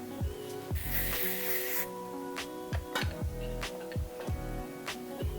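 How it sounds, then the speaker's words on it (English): Heat protectant spray misted onto sections of hair from a spray bottle, a short close hiss near the start among scattered soft clicks and handling noises, fairly quiet overall. "So I'm going to spray a generous amount on each section of hair"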